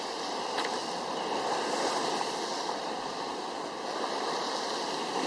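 Surf on the shore at Barmouth in Wales, a continuous broad rush of water with a faint swell, steady and moderately distant, no talk over it.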